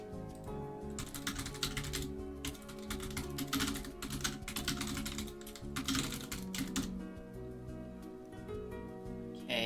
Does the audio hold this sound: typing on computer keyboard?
yes